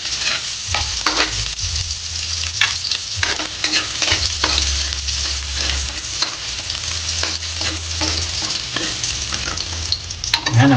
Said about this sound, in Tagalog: Igigisa na po natin yung bawang.